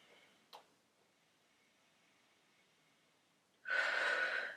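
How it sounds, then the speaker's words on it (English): A deep yoga breath at the end, a loud sustained airy exhale after a quiet stretch with one brief sniff near the start. "Breathing in our belly."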